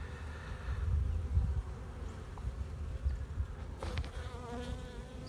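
Honey bees buzz in a continuous close hum during a beehive inspection, with brief handling knocks partway through.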